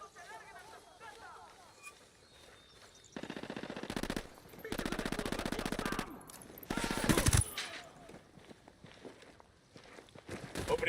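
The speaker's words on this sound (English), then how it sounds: "Opening fire." Video game gunfire, sustained automatic bursts that come in loud rattling stretches between quieter gaps, with footsteps and a voice talking under the action.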